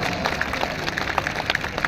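An audience at a mushaira poetry gathering in Mumbra claps together, a dense burst of close, continuous applause that fills the short moment without speech.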